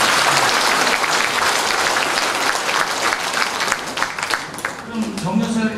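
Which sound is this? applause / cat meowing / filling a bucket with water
applause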